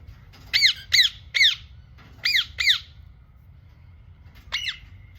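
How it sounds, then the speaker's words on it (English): An Indian myna squawks in sharp repeated bursts, five in quick succession, then a pause and one more, fairly close over a low rumble outdoors. "it wasn't the butcher bird, it was the Indian myna."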